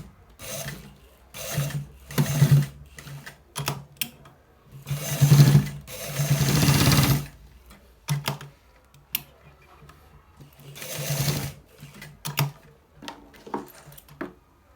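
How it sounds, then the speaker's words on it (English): Sewing machine stitching a trending-style pocket onto garment fabric, running in several loud bursts of rapid whirring separated by brief pauses, close by with no talking. "So watch how we are stitching it."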